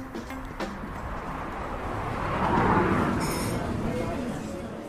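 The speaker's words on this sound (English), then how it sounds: "The sound around us is the purring of coffee machines steaming milk, the tinging of teaspoons" Busy coffee shop ambience with a steady, hissing whoosh of a coffee machine steaming milk swelling in the middle, light teaspoon clinks and a low murmur of voices throughout.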